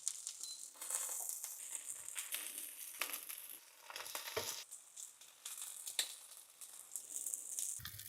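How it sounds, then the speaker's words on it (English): Egg-coated pork seasoned with salt pan-fries over medium heat, giving a soft, bright crackling sizzle broken by irregular pops and small clatters. It stays fairly quiet throughout. "Coat in beaten eggs with salt and pan fry for 5 minutes per side on medium heat."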